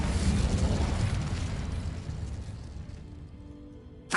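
A fire spell cast in Hogwarts Legacy on PS5 erupts in a loud, roaring burst that fades over several seconds, ending with a short sharp flare.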